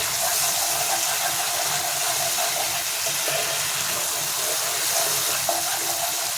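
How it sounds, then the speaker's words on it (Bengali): Water pours steadily into a pan of spicy curry, a continuous loud rushing and hissing that runs unbroken throughout. "জলটা দিয়ে দিলাম"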